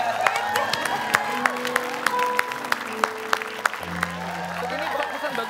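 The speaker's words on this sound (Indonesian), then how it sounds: "Kita berikan tepuk tangan kembali." Studio audience applause on an Indonesian TV show, steady clapping with scattered sharp claps running throughout, mixed with a voice speaking over it.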